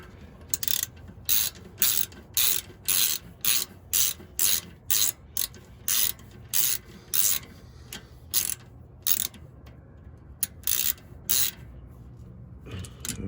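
A ratchet tightening brake bolts on a car, crisp repeated clicking strokes in a steady rhythm, close and clear against a quiet background, with a few pauses toward the end.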